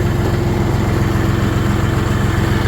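An RD-244 tractor engine runs steadily and close by, a loud, low, even diesel chug that is slightly bogging down and falters a little under load, with no voices.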